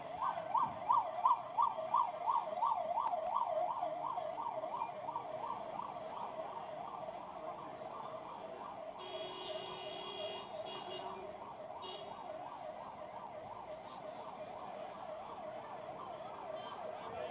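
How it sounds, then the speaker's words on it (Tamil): An ambulance siren wails in a steady repeating up-and-down cycle on a crowded Tamil Nadu street, loudest at first and then holding steady, with brief bursts of other street noise partway through. "அண்ணா இந்த ஆம்புலன்ஸ் கொஞ்சம் அப்படியே வழிவிடுங்க எல்லாரும்."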